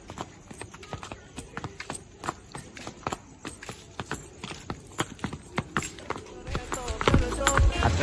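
A mare's hooves clip-clop in a steady, lively rhythm as she dances outdoors under a trainer's lead, sharp close strikes repeating throughout with a louder scuffle near the end.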